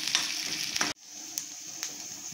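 Curry leaves and spices sautéing in a pan give a close, steady sizzle, with a few sharp crackles and stirring scrapes and a brief dip before the frying continues.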